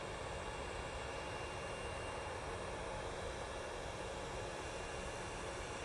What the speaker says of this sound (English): I do like this Embraer. It's a nice looking plane,